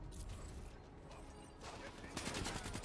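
Gunfire in the Black Ops 3 co-op campaign, heard quietly: a blur of shots builds into rapid, rattling bursts near the end, with voices mixed in.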